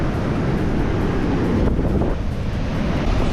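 Ocean waves roll onto a Bali beach in a steady, broad wash of surf with some wind noise, heard alone at moderate loudness.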